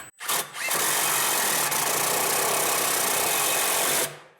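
A power driver runs a screw back in during belt and clutch alignment on a CF Moto U10 Pro, a steady loud whir lasting about three and a half seconds without pause, with no talk over it.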